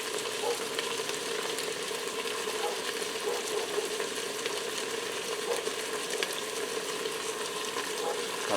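Onions and sausage fry in an open pressure cooker for an Italian winter soup, a constant close sizzle with faint crackles throughout and no voices.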